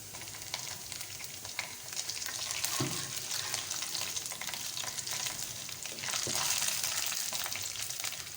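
Onions and curry leaves fry in a pan, giving a loud, steady, close crackling sizzle throughout, with a few brief stirring scrapes and no talking.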